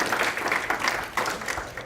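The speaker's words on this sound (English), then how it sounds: "if everybody could just give him a round of applause again for all of his efforts" A round of applause from a seated audience at a talk, fairly faint and uneven clapping with a few sharper individual claps, no speech over it.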